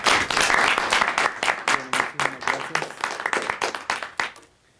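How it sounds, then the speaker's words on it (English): An audience applauds a guest speaker named Tomas at a talk on United States involvement in Honduras and its effects on Indigenous people, with dense, steady clapping that gradually thins and fades out near the end. "a round of applause for Tomas for being with us here today."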